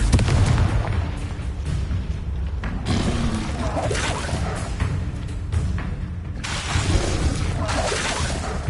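Confringo blasting spells explode repeatedly in a wizard video game, a run of loud overlapping booms and crackling bursts with rumbling debris, several blasts close together over nearly nine seconds.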